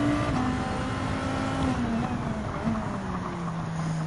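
An Audi RS5 Turbo race car engine in the Gran Turismo 7 racing game drones loudly and continuously, its tone shifting between gears as the car laps the track, with no one talking.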